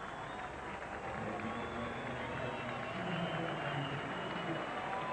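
Cricket crowd at a Test match between South Africa and England applauding steadily around the ground, a continuous broad wash of clapping and cheering that holds at an even level throughout, with commentary voices underneath.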